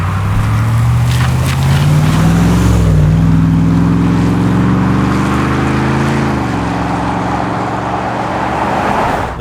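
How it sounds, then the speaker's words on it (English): A 2003 Hartge 5L BMW X5 on 22-inch split-rim alloys accelerates hard, its engine note climbing steadily through a gear change, loud and close with road roar beneath. "The car certainly picks up"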